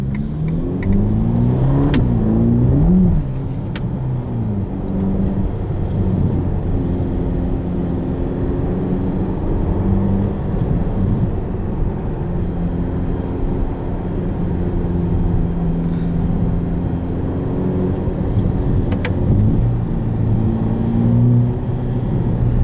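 A 2021 Ferrari Roma drives along a public street, its engine roaring loudly as it accelerates through rising and falling revs across gear changes, with a steady rumbling drone between pulls and no talking.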